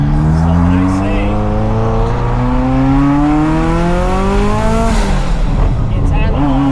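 A Ferrari F40 with a catless LM exhaust revs up to about 4,000 RPM, its loud engine tone climbing steadily to a peak and then dropping back, close and unbroken with no talking.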